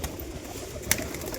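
Pigeons coo softly in a tumbler loft, a low murmuring texture with one brief sharp rustle or wing flick near the middle, all fairly faint with no talk.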